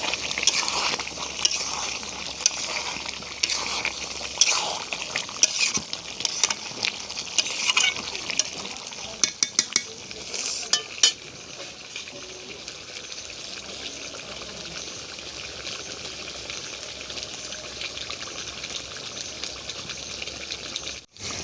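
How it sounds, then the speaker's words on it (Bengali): Spoon stirring yogurt chicken curry in a pan, soft intermittent scraping and light sizzling, close and fairly quiet, fading to a faint hiss in the second half. "আবারও আমি নাড়তে থাকবো।"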